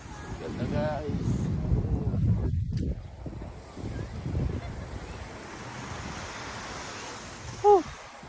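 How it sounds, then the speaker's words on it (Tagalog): Ocean waves washing onto a beach at Paradise Beach Resort in Dipaculao, Aurora Province, a steady surf wash under wind noise, with voices talking early on and a short chirp near the end. "Yan ang beach na hinahanap-hanap guys."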